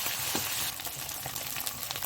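Spices sizzle with ginger paste in a hot pan while cooking a rohu fish kalia, a dense, close frying hiss with faint stirring movement.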